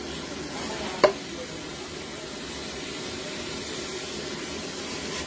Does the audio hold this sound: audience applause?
no